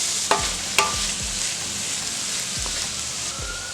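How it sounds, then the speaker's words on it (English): Aromatics sauté in oil in a pot for Caribbean stew fish, a continuous sizzle with a few sharp utensil knocks near the start and occasional stirring scrapes. "I am adding my aromatics to this and give it a nice saute before I go in with my coconut milk."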